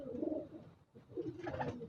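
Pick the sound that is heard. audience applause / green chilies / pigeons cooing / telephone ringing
pigeons cooing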